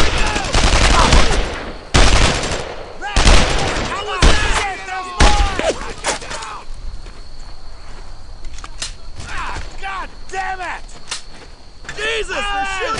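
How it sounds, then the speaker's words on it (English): Gunfire in the WWII shooter Brothers in Arms: Earned in Blood, with loud close rifle and machine-gun bursts cracking in rapid clusters, later thinning to scattered shots as soldiers shout over the battle. "they're shooting at me!"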